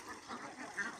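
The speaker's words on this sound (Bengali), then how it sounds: "হাঁসগুলো আজকে এরই ধান খেতে ছেড়ে দিলাম।" A few faint, soft quacks from ducks foraging in a harvested rice field, heard briefly and at a distance over low outdoor background.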